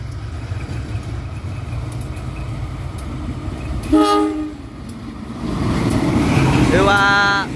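A local passenger train in Indonesia rumbles past, its horn sounding a short blast midway, then a louder, longer horn near the end as the rumble swells closer.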